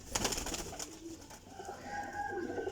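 A teddy pigeon coos close by, a short run of soft throaty calls over a busy, rustling background with no talking.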